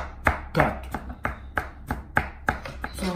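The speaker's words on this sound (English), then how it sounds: "Now we are going to start by cutting the onion in fine" A knife chops an onion finely on a cutting board, about nine crisp, evenly spaced knocks, close and clear, with no talking.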